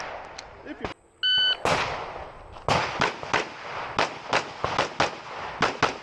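Rapid gunshots ring out across a USPSA Limited Optics shooting stage, a string of sharp cracks in quick bursts with a brief electronic beep from the shot timer near the start.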